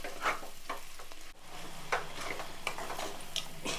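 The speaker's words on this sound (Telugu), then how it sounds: "బాగా కలపాలండి ఈ ఉల్లిపాయ ముక్కలు ఎక్కువ వేయలేదు కదా తక్కువే వేసాను" Onions, spice paste and raw turmeric for a curry fry in a pan under steady stirring, a soft continuous sizzle with a few scraping clicks of the spoon, close but fairly quiet.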